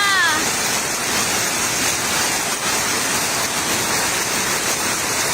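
Heavy typhoon rain pours down steadily during a flood in Tatalon, Quezon City, a dense continuous roar with no break, loud and close throughout.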